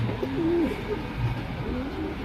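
Rakdar pigeons, including a male, cooing close by: a couple of soft, low, rolling coos with gentle rising and falling pitch over a quiet background hiss, and no voices.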